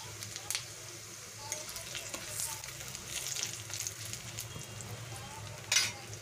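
Cumin seeds with cinnamon, cloves, cardamom and bay leaves sizzle in hot oil, a quiet, crackling fry with scattered sharp pops and a louder burst of spitting near the end, with no talking.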